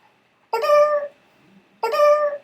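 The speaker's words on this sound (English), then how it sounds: "Meow, meow." A cat meows twice in a video game sound effect, two clear, evenly spaced meows against near silence.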